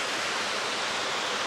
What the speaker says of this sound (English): A waterfall just on the other side of this.